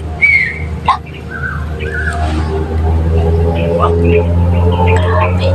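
A bird calls with a few short, high whistled notes near the start, heard over a steady engine-like hum while people talk.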